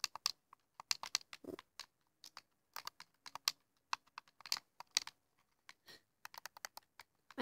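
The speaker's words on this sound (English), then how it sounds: "I think you guys can hear the clicking of our mouses." Xbox One controllers clicking during a Minecraft game: rapid, irregular plastic button clicks in uneven bursts, close to the microphone, with no talking.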